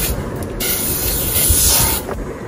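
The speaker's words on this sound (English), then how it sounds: "We'll spray it again on all the sides." Cooking spray hisses steadily from a can onto parchment paper lining a cake pan for a banana coffee cake, one continuous close spray of about two seconds that then tapers off.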